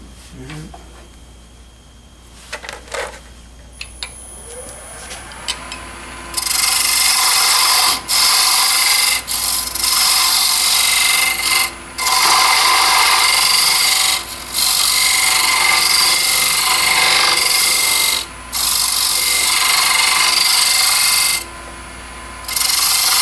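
A wood lathe turns the tenon of a Roman flask. After a quieter opening, loud, close cutting and scraping comes in long bursts separated by brief pauses.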